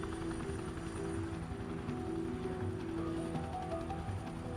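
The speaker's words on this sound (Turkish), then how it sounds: "Abi helikopter." A helicopter's rotor thrums steadily with a droning engine hum, sustained and moderately loud throughout, no voices.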